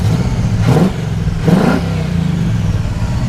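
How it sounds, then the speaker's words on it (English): A 1975 Pontiac Firebird Formula's 350 V8 idles with a deep, throaty rumble, then revs up sharply twice in quick succession, each blip rising and falling back to idle. "Go ahead and rev it up a little bit. Sounds great."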